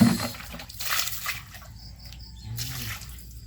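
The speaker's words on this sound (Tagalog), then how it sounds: "Mga tubig ulan po ito" Collected rainwater splashing and trickling as it is poured, with a sloshing burst at the start and softer dribbling after.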